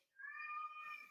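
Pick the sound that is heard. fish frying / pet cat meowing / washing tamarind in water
pet cat meowing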